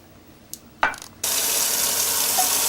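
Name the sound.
water running into tomato sauce cans to rinse them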